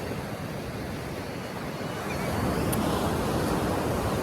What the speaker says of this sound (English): By the sea, the Atlantic Ocean.